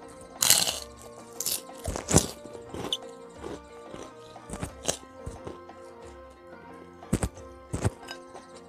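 Crispy kerupuk crackers are eaten alongside Padang-style horse-meat dendeng balado. Close-up crunches and sharp cracks repeat at irregular intervals, loud and clear with no talking over them.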